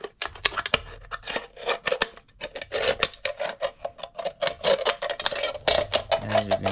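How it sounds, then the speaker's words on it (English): Scissors snip through the top of an aluminium soda can, a run of quick crisp cuts and rasping metal scrapes at close range with no talking. "what you're gonna wanna do is cut off the top of the can"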